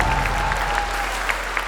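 A live podcast audience applauds steadily to welcome a guest, a dense, even wash of clapping with a faint whistle throughout and no voices.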